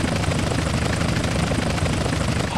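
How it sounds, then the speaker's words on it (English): Police helicopter giving chase in GTA San Andreas, a loud continuous rotor thrum and engine drone filling the short stretch with no break. "Chopper on our tail."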